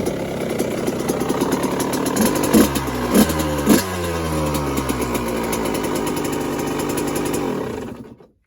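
Suzuki RM85 two-stroke dirt bike engine running loud and close, a raspy buzzing idle with three quick throttle blips in the middle before it cuts off abruptly at the end.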